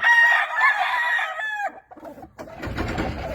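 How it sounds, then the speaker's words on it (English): Two-year-old Kelso gamecock roosters crow loudly and close, then one breaks into a series of throaty clucks and low rustling. "These are some of my 2-year-old cocks. They're Kelso cocks."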